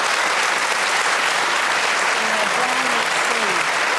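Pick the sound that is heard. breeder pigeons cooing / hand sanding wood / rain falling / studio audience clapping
studio audience clapping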